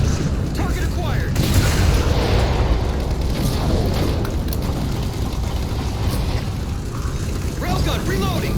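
A railgun firing at Phantom dropships in the Halo 4 video game, heavy booming blasts and mechanical clanks over dense continuous battle noise, loud throughout.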